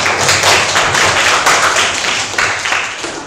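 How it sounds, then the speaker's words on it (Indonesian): A classroom of students clapping their hands together during a teaching-practice lesson, loud close-up burst of many overlapping claps that holds steady and then tapers off. "Oke, tepuk tangan."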